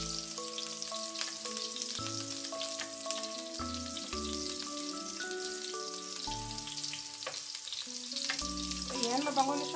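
Ginger sizzling as it sautés in a pan for squid adobo, a continuous crackling fry with occasional stirring clinks, close and alone, while music plays underneath.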